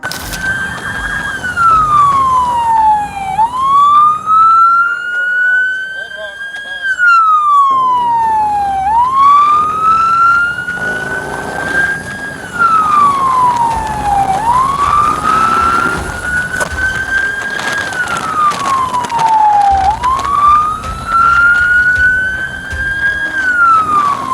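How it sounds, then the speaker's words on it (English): A loud wailing police siren sweeps up and down repeatedly during a high-speed chase, with traffic rumble and speeding cars and motorbikes underneath. "There were sirens, cars and power bikes speeding down lanes."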